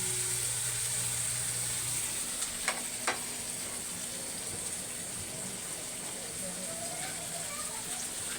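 Food frying in a hot wok-style pan on a home stove, a steady loud hiss of sizzling oil like rain with a couple of brief clinks from stirring, close and continuous throughout.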